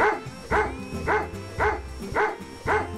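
A dog barks steadily, about five evenly spaced barks, loud and close, with a musical backing running underneath.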